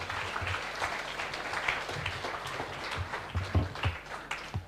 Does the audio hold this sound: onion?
no